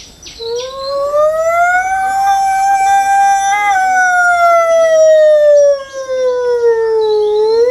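A single voice imitates an ambulance siren, one long sustained wailing tone that rises then slowly falls, loud and close with no other sounds.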